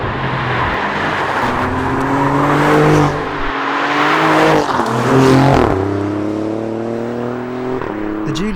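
An Alfa Romeo Giulia Quadrifoglio's 2.9-litre twin-turbo V6 revs and pulls hard through rising gears, loud and close, with brief lifts between shifts and a throaty, building drone.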